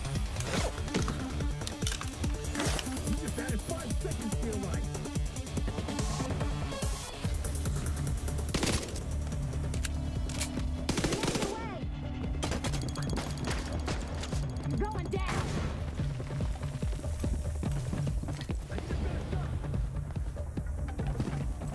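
Sustained gunfire and explosions in The Division 2, dense rapid bursts of shots with heavy booms, loud and continuous, with voices shouting over the fighting.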